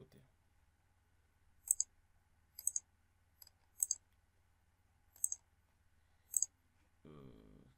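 A computer mouse clicks quietly and close up, about six crisp single clicks spaced roughly a second apart, with a low murmur of a voice at the very end.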